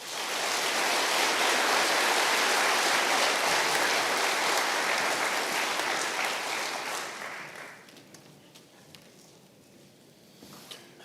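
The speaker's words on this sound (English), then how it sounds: "Please give them all a round of applause." Sustained applause from a large audience at a 2024 graduation ceremony honouring class officers: a loud, dense wash of clapping that holds steady for about seven seconds, then thins and fades into scattered claps.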